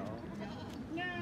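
A pair of young female mountain goats, about four to five months old, let out a bleat near the end, with harmonic cries rising over steady talking close by.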